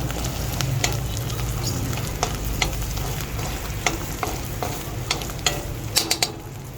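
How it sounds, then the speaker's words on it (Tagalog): Garlic and meat fry in a pan for a vegetable dish, giving a loud, steady sizzle close up, broken by frequent clicks and scrapes of stirring, with no talking. "lagay na natin yung bawang guys. Garlic."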